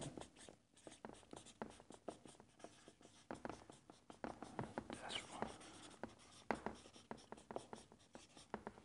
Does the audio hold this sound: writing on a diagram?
yes